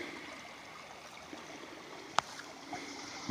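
A river flows past old pilings near the remains of a former logging town, a steady low wash of moving water running throughout at moderate distance, with one brief sharp click partway through.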